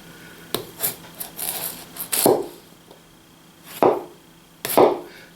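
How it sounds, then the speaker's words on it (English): Root vegetables sliced on a board with a 3/16 knife, giving a few separate crisp cutting strokes and scrapes at irregular intervals, close and fairly loud, no talking. "you're able to slice very controlled slices with root vegetables and things like that"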